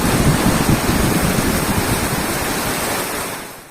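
Heavy rain falls hard on a roof, with water gushing from a newly installed downspout in a dense, steady roar that stays loud and close before easing slightly at the end.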